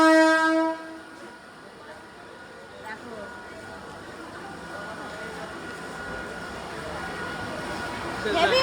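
A train pulls away from a busy station platform; a loud harmonic horn blast sounds at the start, then a steady rumble of rolling carriages continues, rising slightly near the end.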